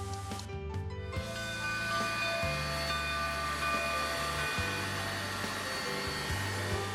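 An antique train on a long scenic ride through South Dakota: a steady low rumble and drone of the running train with sustained tonal hum, fairly faint and continuous, no talk.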